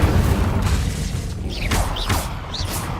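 Incendio fire spell cast in Hogwarts Legacy, with a loud rumbling burst and whooshing flare, followed by a few short sparkling swishes over a dense game background.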